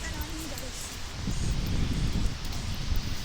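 Gusty wind rumbles and buffets the microphone outdoors in Hong Kong, rustling steadily as a voice speaks briefly.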